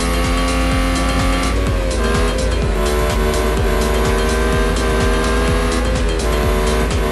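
Ferrari SF90 Formula 1 car in the Real Racing 3 video game at the British Grand Prix, braking hard, with a loud, steady engine roar and tire squeal running throughout, no talk.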